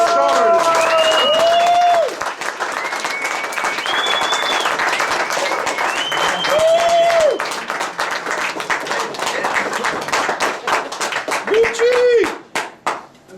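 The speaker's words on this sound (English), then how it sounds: "Ladies and gentlemen, huge round of applause. Make some noise." At a boxing hall of fame induction ceremony, a crowd claps and cheers loudly and continuously, with whistles rising over the dense applause before it thins out into scattered claps near the end.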